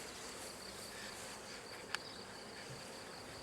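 Honey bees swarm around a two-chamber queen introduction cage, filling the air with a steady, dense buzzing hum and one sharp click partway through.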